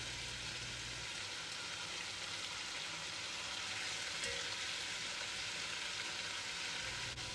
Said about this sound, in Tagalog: So first, igigisa niyo muna yung beef.